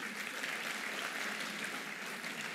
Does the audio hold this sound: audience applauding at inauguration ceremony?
yes